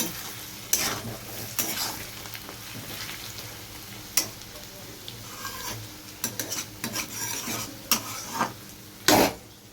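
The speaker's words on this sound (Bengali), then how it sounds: "এদিকে আলু পেঁয়াজ ভেজে নিচ্ছি" Potatoes and onions fry in a pan with a steady sizzle, broken by sharp clinks and scrapes of a utensil stirring against the metal; no one speaks.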